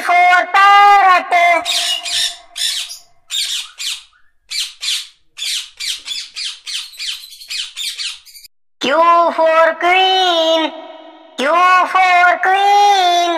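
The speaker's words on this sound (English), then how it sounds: "P for parrot." A parrot gives loud, harsh squawks in bursts, some long and wavering, others short and choppy, close up with brief pauses between calls.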